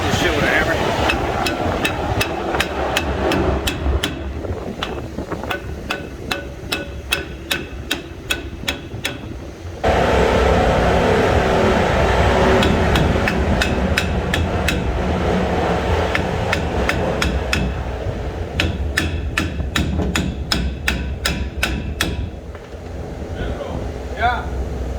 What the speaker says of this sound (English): Beat this shit with a hammer.